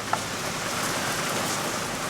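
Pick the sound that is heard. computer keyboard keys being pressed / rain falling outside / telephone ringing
rain falling outside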